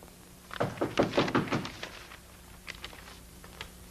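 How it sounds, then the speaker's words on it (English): Footsteps approach a door in a 1942 film, a quick run of close thumping steps followed by a few fainter taps against a quiet background. "The steps are coming to my door."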